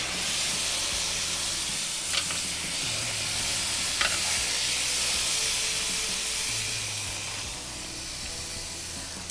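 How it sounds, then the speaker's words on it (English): Flank steak on an outdoor grill, a steady soft sizzle and hiss throughout with a couple of brief sharp clicks, faint and fairly close. "When I do the flank steak on the grill"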